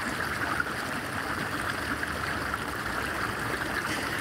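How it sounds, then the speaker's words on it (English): Steady running water from an indoor water feature at the Watergardens shopping centre in Melbourne, a continuous even splash and trickle with no pauses, moderately close and heard alone without talk. "There's something about the sound of running water"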